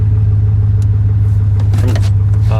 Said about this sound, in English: That's just an exhaust leak